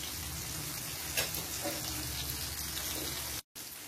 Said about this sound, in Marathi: परत एकदा परतून साधारण 1 ते 2 मिनिटं फक्त बारीक गॅसवर ही शेकून घेणार आहोत.